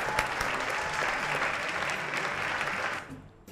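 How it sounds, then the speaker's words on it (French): Studio audience applauding Bruno Marion, the futurist monk, on a TV talk-show set; dense sustained clapping that stays steady, then tapers and thins out over the last half second. "Applaudissements donc pour Bruno Marion"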